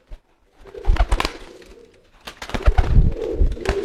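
Several racing pigeons at a market cooing and rustling close by, a steady run of low throaty coos with some flapping and movement.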